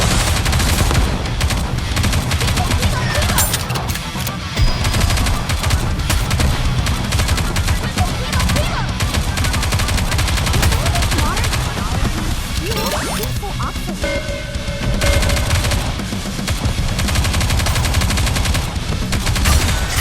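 Dense, continuous gunfire and automatic weapon bursts in the video game Goddess of Victory: Nikke, loud and relentless for the whole stretch, mixed with explosions and game effects.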